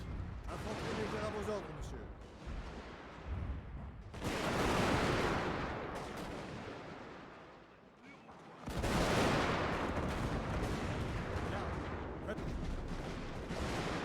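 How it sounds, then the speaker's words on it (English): Infantry rifle volleys and artillery fire in a Shogun 2 Fall of the Samurai battle, loud dense bursts of gunfire and booming blasts rolling in waves, with a brief lull midway before another heavy barrage, a voice talking over it. "The artillery seems to have already wreaked quite a bit of havoc. Infantry is opening up."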